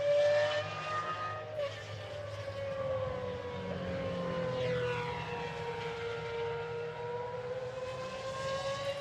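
GT1 race cars circle the Barcelona circuit, their engines carrying a sustained, rising and falling whine with a broad, echoing roar that swells and fades as they pass at a moderate distance.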